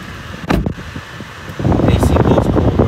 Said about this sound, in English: Let's turn it on one time. Hear what it sounds like. It is a push to start.